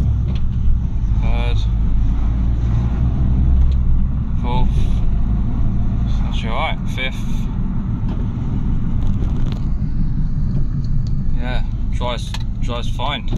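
A cheap used Mini car being driven, its engine and road rumble steady and close throughout, with someone talking over it at intervals.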